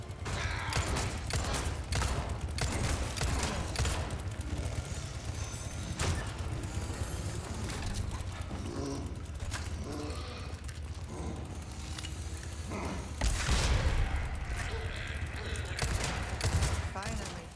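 Gunfire from a weapon in the Resident Evil 4 Remake video game, with repeated sharp shots and heavier blasts over steady game sound and a continuous low rumble, loudest near the end.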